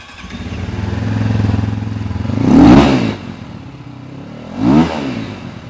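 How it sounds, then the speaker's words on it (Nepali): A Cross X CX 250R motorcycle idles with a steady exhaust burble, then is revved twice in sharp blips a couple of seconds apart, loud and close, each falling back to idle. "250R CX को एक्जस्ट साउन्ड"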